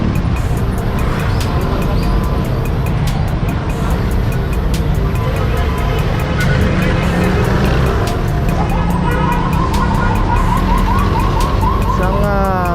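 Ambulance siren sweeping through heavy traffic, rising late in the clip above a constant roar of cars and engines, with a voice talking over the street noise.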